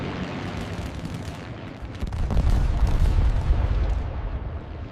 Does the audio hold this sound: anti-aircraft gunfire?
yes